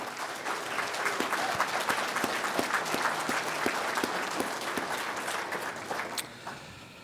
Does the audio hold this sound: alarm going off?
no